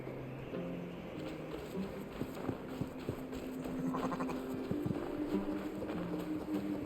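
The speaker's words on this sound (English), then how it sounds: "Look at the big fat sheep." Sheep in the video game Assassin's Creed Valhalla bleat several times over game music and a pattering ambient backdrop, faint and moderately distant.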